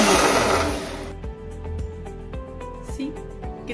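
Electric blender running on its whip setting to make thick lassi, starting with a loud whirring roar for about a second before cutting to a quieter ticking, rattling hum.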